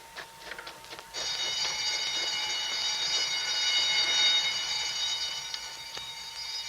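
A loud continuous electronic alarm bell rings in a radio crime drama after a prison breakout, starting abruptly after a second of scattered clatter and holding steady to the end.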